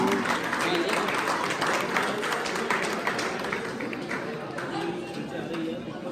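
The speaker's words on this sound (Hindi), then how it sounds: "जोरदार तालियां" An audience claps continuously for a first-place winner, a dense, even wash of applause filling the whole stretch, fairly loud with some crowd murmur.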